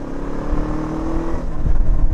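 A Zongshen Cyclone RX3s motorcycle engine revs close by, a steady throbbing drone that builds in loudness toward the end.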